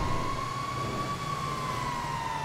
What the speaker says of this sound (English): Follow the sound of the sirens,